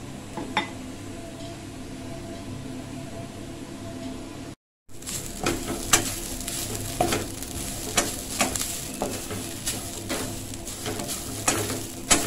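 Grated coconut is stir-fried without oil in a pan for kohu-kohu, an Ambonese urap, with a steady dry sizzle and frequent scraping clicks of a spatula against the pan, close and continuous.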